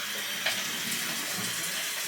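Water pours steadily into a brownie mix during home baking, a close continuous splashing trickle with one small splash partway through and no speech.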